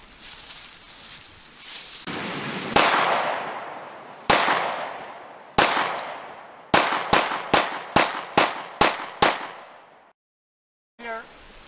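Rifle shots fired close up at an iMac computer crack out loud and sharp, a few spaced blasts with ringing decay followed by a rapid series of evenly spaced shots, then silence, with no talk.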